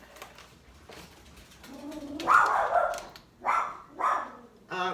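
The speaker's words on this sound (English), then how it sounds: "stop barking." A dog barks several times nearby, sharp separate barks in quick succession after some quieter background noise.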